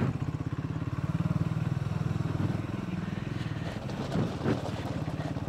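A Triumph Scrambler 400X off-road motorcycle rides on a rough route at night, its engine thumping in a steady pulsing rhythm close to the microphone, with clatter and shifting noise toward the end.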